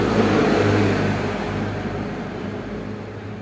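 Honda Vario 110 scooter with a badly worn middle transmission gear runs with a loud, steady mechanical whir and drone that slowly eases off, heard close with no talking.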